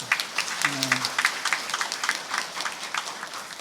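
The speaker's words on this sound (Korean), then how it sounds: "박수 한번 해주시면 좋고" Steady applause from a church congregation after a hymn, a continuous patter of clapping with a brief low voice underneath near the start.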